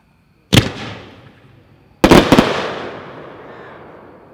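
Two loud, sharp firework bursts, each followed by a long crackling decay, from a 7-shot instant slice cake firing white mines and red lace at an outdoor product demo.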